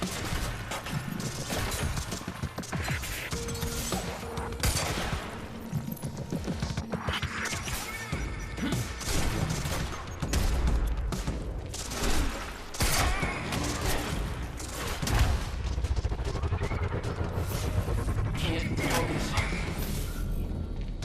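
Rapid pistol shots crack and bang amid crashing impacts and mechanical effects in the video game Quantum Break, dense and loud throughout, with a player talking over the action.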